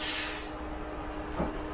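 Cooking oil sprays from a can into a frying pan in one brief loud hiss at the start, quickly fading into quiet room noise.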